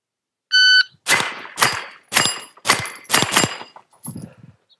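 A start beep precedes rapid pistol-caliber carbine shots from a Davinci DG-9 competition PCC, six sharp, loud cracks in quick succession with faint metallic pings from the steel plates, ending with a softer trailing impact.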